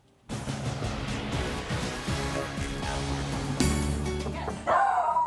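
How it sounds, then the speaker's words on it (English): Higgins, a dog in a condo, lets out bow-wow barks and yips under music and a narrator's voice, with a sharper, louder burst near the end. "He's a barker. He barks at if somebody walks by our door"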